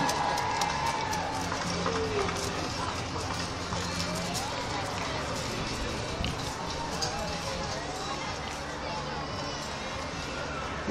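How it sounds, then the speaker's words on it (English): Outdoor crowd applauding an Olympic torch bearer outside the Mini plant in Oxford: a steady, dense wash of clapping and crowd babble that holds for the whole stretch, with voices mixed in throughout. "A round of applause for Michael."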